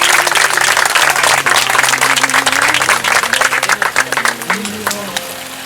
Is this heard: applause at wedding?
yes